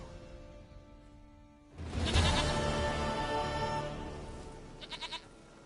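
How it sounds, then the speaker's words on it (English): Goat in The Witcher 3: Wild Hunt letting out a loud, drawn-out bleat after a quiet start, followed by a few short, quick bleats near the end. "Goat of mine, dearest, sweetest goat."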